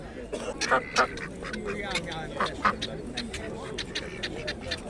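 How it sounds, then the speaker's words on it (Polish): Ducks and drakes quack and honk in a noisy cluster at a livestock and poultry market in Lublin, Poland, overlapping calls rising above a busy murmur of crowd chatter. "kaczory kaczki"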